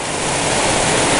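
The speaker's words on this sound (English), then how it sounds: "we're at the back of a small waterfall right here" Small waterfall in a canyon on Squaw Creek, a steady dense rush of falling water close by, filling the whole clip with no voices.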